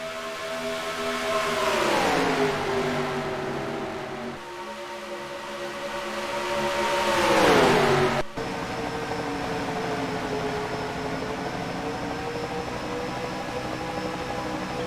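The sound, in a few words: Ford stock cars racing in the video game NASCAR Racing 2003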